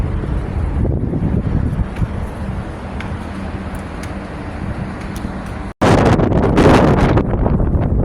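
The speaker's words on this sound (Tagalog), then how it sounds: "Super hangin talaga" Strong wind roars continuously against the microphone outdoors by a pool in Bahrain, cutting out for an instant, then returning in a louder, harsher gust.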